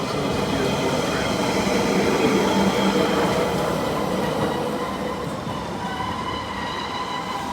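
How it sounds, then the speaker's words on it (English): A Melbourne tram rolls past on a city street, its steady rumble and rail noise loud and continuous throughout, with wheel squeal and faint talk mixed into the roar. "We got ourselves a beautiful tram."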